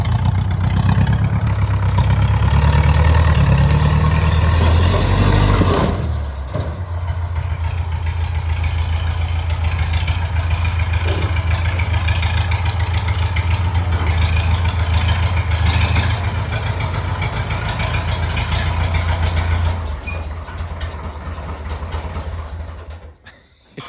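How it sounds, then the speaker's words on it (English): A tractor engine revs loudly and steadily as the tractor drives up into a shipping container, a close, continuous diesel rumble that drops slightly after a sharp jolt and keeps running until near the end. "This is like attempt, I don't know, 5 or something to get the tractor into the container."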